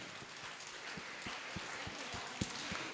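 Faint, distant audience applause at a school STEM opening ceremony forms a dense, even patter of many hands with a few sharper claps standing out, no voices over it.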